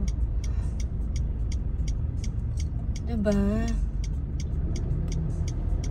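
A car in nearby city traffic gives a steady low engine and road rumble throughout, with faint rhythmic ticking like a turn signal and a brief burst of voice in the middle.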